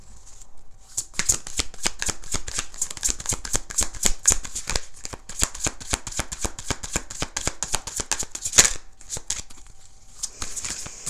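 A tarot card deck is shuffled over and over, a steady run of crisp riffling flutters and quick snaps that sounds close and alone, with a brief pause partway through.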